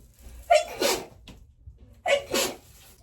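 Two sneezes about a second and a half apart, each a sharp intake followed by a loud burst, close to the listener.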